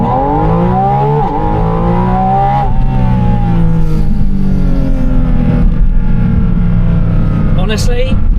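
A Porsche 718 Spyder RS engine revs hard and close, its pitch sweeping up and down in repeated rising and falling runs, loud and sustained, with a short sharp sound near the end.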